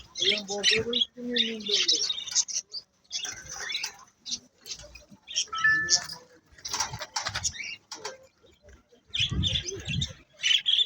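Birds and pigeons at the Jizzakh Orom bird market make chirps, tweets and rustling in bursts between pauses, fairly close, with occasional voices of people nearby.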